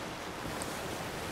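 Ocean waves in Sea of Thieves wash against a sailing ship as a steady, broadband rush of surf and wind noise, soft and continuous with no distinct breaks.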